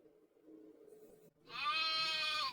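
A single drawn-out sheep bleat rings out loud and close, following a quieter stretch of low rumbling background noise.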